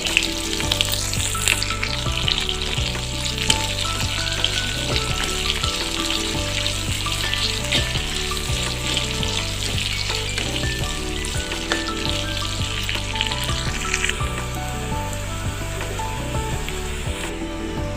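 Onions fried with cashews, whole cumin and whole garam masala for a chicken curry give a loud, dense, continuous sizzle and crackle that runs steadily throughout with no voices.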